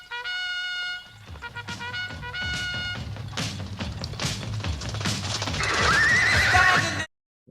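A horse neighs in a long whinny over clip-clopping hooves at the opening of a song played on a vinyl record, loud and close, with music building underneath before it cuts off abruptly.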